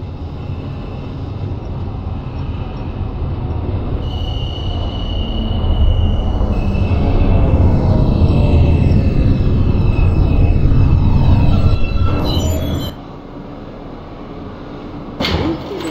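An R160A subway train on a Q local run in the OpenBVE train simulator hums and rumbles at a steady loud level. It swells as it runs, with a high whine and a shrieking screech, then drops to a quieter idle before a brief burst near the end.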